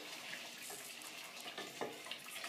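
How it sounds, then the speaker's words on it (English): Water pours steadily into a pot of youvetsi with beef and potato, a soft continuous splashing hiss, faint and close, with no voices. "Add water."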